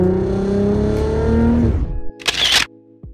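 A manual-swapped 3.6-liter VR6 in a Mk6 Volkswagen GTI runs with a loud, steady, rich engine drone that cuts off abruptly, followed by a short burst of noisy hiss and a faint click near the end.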